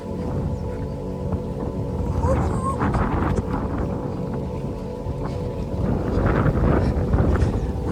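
Wind rushes steadily across the microphone of a bicycle on a ride through Kotipalli in Konaseema, a loud broadband roar that swells around three and seven seconds and covers the whole stretch.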